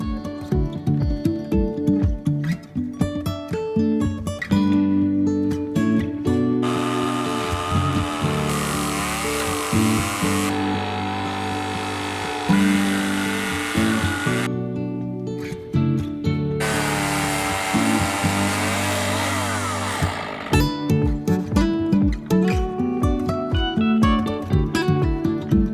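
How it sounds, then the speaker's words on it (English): A chainsaw mill engine drones loudly, rising into long bursts of higher-pitched cutting through wood for deck posts, then dropping back to a rougher idle between cuts. "We used a different type of chainsaw mill to do the posts."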